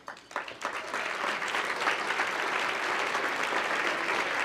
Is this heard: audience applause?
yes